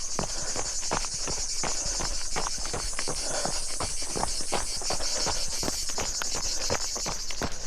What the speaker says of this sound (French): Écoutez-moi ces cigales comme elles chantent.